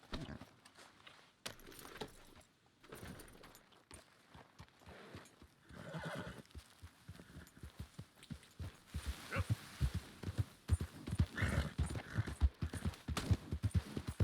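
Horse hooves clip-clopping and galloping in the Red Dead Redemption 2 video game, a steady rhythmic run of hoofbeats that grows louder and busier toward the end, with a horse whinny mixed in.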